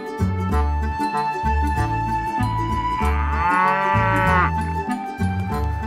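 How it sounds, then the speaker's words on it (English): An Ayrshire, a hardy Scottish breed of dairy cow, lets out a long, loud, drawn-out moo that rises and bends in pitch, close and clear, with faint tinkling behind it. "Ayrshire cow is from Ayr in Scotland. It's a hardy breed of dairy cattle."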